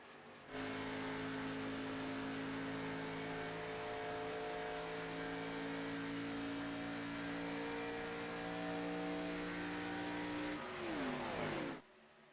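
Race cars accelerate together after the green flag at Chicagoland Speedway, their engines holding a steady roar that swells near the end as one car sweeps close and passes, with no talk over it.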